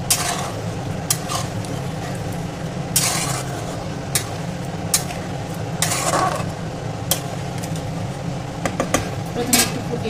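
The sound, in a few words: stirring spice masala with water in a pan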